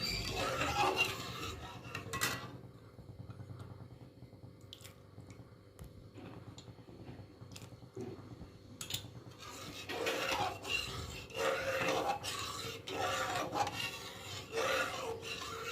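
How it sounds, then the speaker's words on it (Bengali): A spoon stirs an orange jam mixture in a pot, making soft, irregular scraping and rubbing strokes against the pan, with occasional faint clinks and wet squishes, all fairly quiet and close. "এভাবে অল্প অল্প করে দিতে থাকবো আর মেশাতে থাকবো।"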